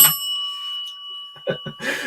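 A single bright bell ding rings out clearly and lingers briefly as it fades, followed by a few short muffled voice sounds.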